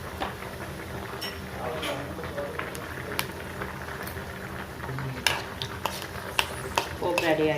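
Cumin, mustard seeds and dry red chillies tempering in hot oil for a ridge gourd chutney, a steady low sizzle and crackle close by, with scattered clinks and scrapes of a spoon against the pan.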